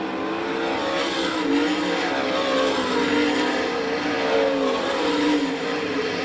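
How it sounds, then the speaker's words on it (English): Sprint race cars in an All Star Circuit of Champions Winternationals event at Gibsonton, Florida, roar nose to tail down the backstretch, their engines loud and sustained with rising and falling revs throughout. "They race nose to tail down the backstretch."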